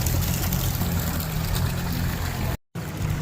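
Water pours continuously from a public stone spout fountain in the Dolomites, a steady close rushing hiss broken by a brief dropout near the end.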